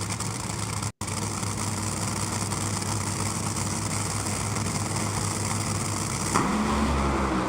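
A nitro drag racing car at a live drag racing nationals event throttles and idles with a loud, steady low engine roar that continues throughout and swells briefly near the end, with no voices.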